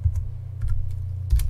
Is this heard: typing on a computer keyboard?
yes